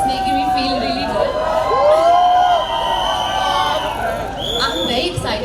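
A lively crowd at a film trailer launch event, whooping and shouting in a loud, energetic mix with high cheers and babble rising and falling, close and continuous.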